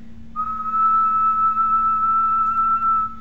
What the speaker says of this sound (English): I'll whistle a little bit lower now, and it should not trigger it.